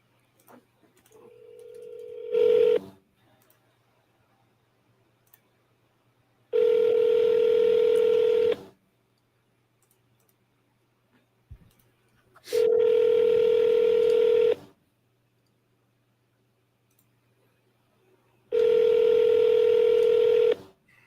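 A telephone call goes out: a short burst of keypad tones, then three long, loud ringback tones separated by pauses of silence.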